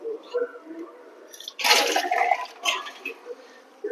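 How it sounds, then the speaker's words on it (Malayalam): Water pours into a hot cast-iron pan of curry made to go with puttu, a rushing splash of pouring and sizzle lasting about a second with quieter drips and bubbling around it, fairly close and moderately loud. "ഒരു സ്വല്പം വെള്ളവും കൂടെ ഞാൻ ഒഴിക്കാൻ പോവാണ്"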